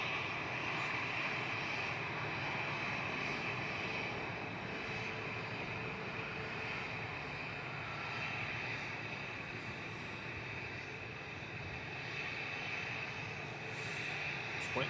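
EasyJet jet airliner rolling for takeoff at Manchester Airport, a long steady distant engine roar that holds evenly, faint and unbroken by speech.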